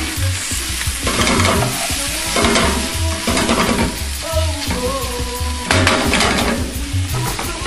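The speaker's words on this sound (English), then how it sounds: "Then now slightly fold butter beans and the saltfish with all the vegetables you put in." Butter beans and saltfish are folded with vegetables in a frying pan for a Jamaican dish, giving loud, continuous sizzling with repeated scraping strokes of a utensil against the pan, close and prominent.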